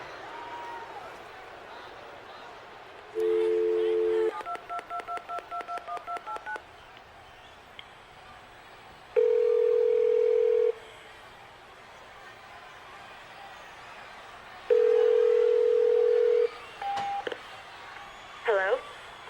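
Telephone dialing tones on a direct line: several bursts of touch-tone beeps and a rapid run of short pulses, loud and close, separated by quieter gaps with faint crowd noise.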